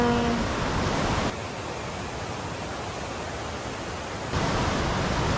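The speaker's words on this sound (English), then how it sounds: "You need to excuse the noisy waterfall here." Loud, steady roar of a waterfall beside a wild campsite in the mountains of Écrins National Park, France, rushing continuously and close by as a broadband wash with no voices.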